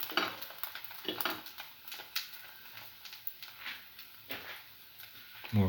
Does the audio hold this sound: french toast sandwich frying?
yes